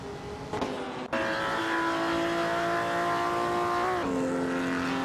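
Race car engines in a racing video game roar steadily as several cars pull out of the pits to rejoin the track, their sustained whine shifting pitch midway and again near the end, loud and close with no talking.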